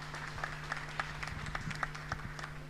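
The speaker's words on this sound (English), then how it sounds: "Let's welcome her with a round of applause." Audience applause at a national sports career fair and symposium in Nairobi, scattered claps from a modest crowd, fairly faint and distant, continuing steadily for a few seconds.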